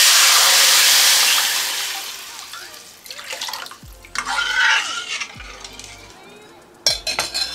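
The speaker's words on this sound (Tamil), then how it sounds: "அடுத்து கூட்டி வச்சுருக்க ரசத்தை ஊற்றிக்கலாம்." Lentil rasam is poured into a hot tempering pan holding chillies and curry leaves. A loud rushing sizzle fades out, followed by pan clatter and utensil clinks near the microphone.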